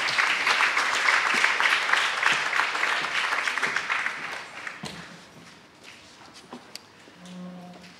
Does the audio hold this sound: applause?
yes